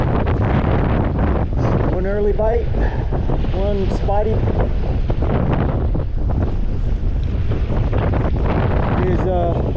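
Strong wind roars steadily across the microphone while fishing on New Year's Day, with someone talking through it.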